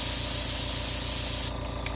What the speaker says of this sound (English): I start out, and you can hear my airbrush in the background.